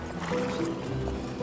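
A horse's hooves clop in a dubbed historical drama, a few quick hoof beats mixed with movement and muffled voices in the background.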